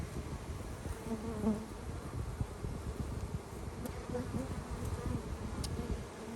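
Honey bees drone steadily in an open hive box at a cow pasture apiary, a dense, continuous buzz close to the listener with no talk over it.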